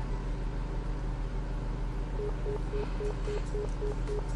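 In the visual novel NekoPara, a phone number is dialed as a rapid run of about eight short, evenly spaced electronic beeps, set over a steady background hum and noise.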